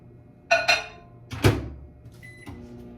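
A microwave oven heating butter gives a few close, sharp button beeps and a clunk of the door, then settles into a low steady hum with a faint tone near the end.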